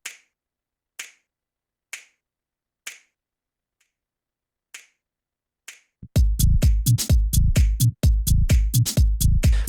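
A clap sample in a music mix: single sharp claps repeat alone in a steady rhythm against silence, then a dense, loud beat kicks in with the clap hitting on each pulse.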